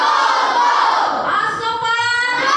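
Students of As-Shofa school shout their school yell together in a room during a leadership training session: a loud, sustained chorus of young voices in unison, rising in pitch toward the end.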